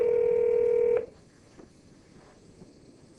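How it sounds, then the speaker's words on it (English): An office phone gives a loud, steady dialing tone for about a second and then cuts to near silence, with faint ringback tones following. "I can call his cell phone"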